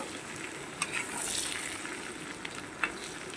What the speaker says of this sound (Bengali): এবারে আমার আলু পটল সুন্দর করে ভেজে নেওয়া হয়ে গেছে।